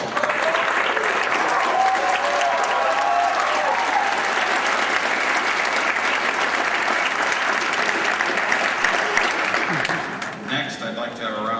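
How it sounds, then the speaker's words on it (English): An audience at a graduation ceremony gives the faculty a long, steady round of applause from many hands, easing off near the end as a voice begins to speak. "So faculty, please stand and have a round of applause."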